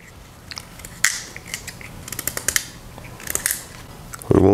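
A paring knife peels the skin off a pumpkin and cuts it into cubes, producing scattered crisp snicks and scrapes at close range with pauses between strokes, and a louder thud near the end.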